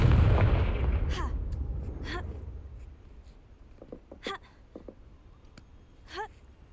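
Confringo fire-blast spell in Hogwarts Legacy going off near the castle battlements: a big opening boom that rumbles and fades, then a few sharp crackling bursts and faint pops trailing behind.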